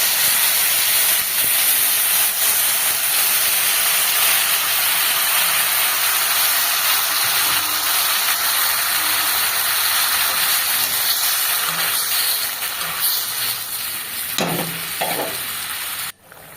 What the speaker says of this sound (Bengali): দেখো ঝোল ফুটতে শুরু করে দিয়েছে